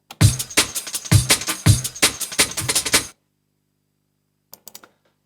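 A drum and bass breakbeat plays from an Akai S1000 sampler: a punchy, shuffling pattern of kicks and snares loops for about three seconds and then cuts off, followed by a few faint ticks.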